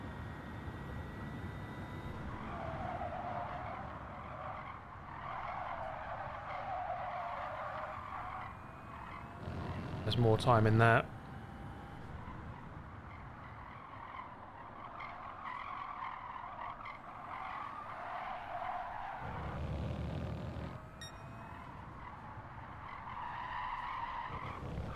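Tires squealing in the Gran Turismo racing game, two sharp skids around 10 and 20 seconds over a steady engine drone, with a driver talking quietly throughout.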